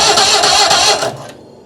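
Citroën 2CV engine cranking on a 6-volt supply without catching, a loud rapid churning that grinds on for about a second and then cuts off, heard close up with no talking.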